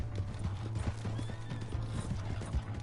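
Horse hooves clip-clop at a gallop with a whinnying neigh in Red Dead Redemption 2, a steady rhythmic drumming of hoofbeats over a low continuous rumble, close and fairly loud, with no talking.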